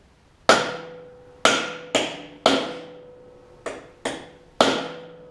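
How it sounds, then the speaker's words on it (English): A hammer striking the flywheel of a John Deere D110 riding mower to knock it loose, seven sharp metallic blows at an uneven rhythm, each ringing briefly before decaying, close and loud with no talking. "let me go get my hammer and we'll pop that flywheel off"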